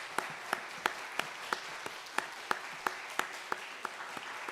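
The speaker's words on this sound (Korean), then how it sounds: "우리 세 분에게 감사와 축복의 박수, 사랑의 박수 함께 해드리겠습니다" A church congregation gives a brief round of applause to welcome three newcomers during a Sunday worship service, heard as a thin, steady patter with sharp individual claps ringing out over it.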